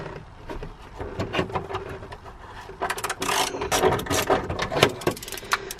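A ratchet fitted with a 14mm socket works loose rear seat bolts in an EP3 Civic Type R, giving close, uneven bursts of clicking and metallic rattling.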